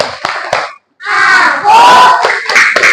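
A class of children claps a quick rhythmic pattern, a few sharp hand claps, then breaks into a loud group chant and shouting that fills the rest, close and lively.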